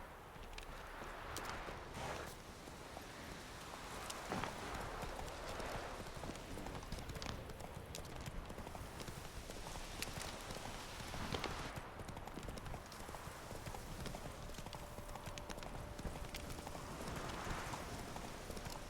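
Rhythmic clip-clop of horse hooves at a steady trot in the video game The Witcher 3: Hearts of Stone, over a constant textured background, continuing throughout without pause.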